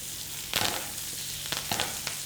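Hot butter crackles and sizzles over a rib eye steak in a pan with garlic and thyme, a steady close hiss with several louder spattering bursts as the butter is spooned over.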